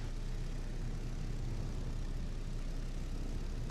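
Torpedo planes droning overhead in the Pacific naval combat game Victory at Sea Pacific, a steady dense propeller-engine roar filling the whole stretch without breaks.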